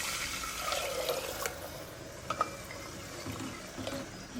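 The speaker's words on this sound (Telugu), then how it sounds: "గ్లాసుకు 3 గ్లాసులు చొప్పున 6 గ్లాసులు వాటర్ పోసుకోవాలి" Water is poured into a cooking pot to make sweet pongal, a soft gurgling splash heard fairly quietly with a few small clinks, and no one speaking.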